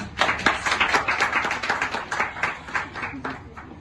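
A small audience claps in a fairly steady patter of overlapping hand claps, close and moderately loud, with a voice murmuring underneath.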